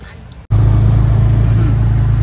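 A car starts up abruptly with a sharp onset and then drones loudly and steadily at close range, a strong low engine hum filling the moment as it pulls away.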